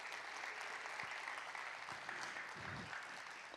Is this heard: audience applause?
yes